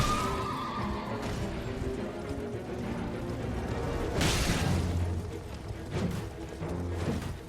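A horse in the video game Elden Ring neighs and whinnies over a busy game soundscape, with hoof clip-clops and a loud burst near the middle.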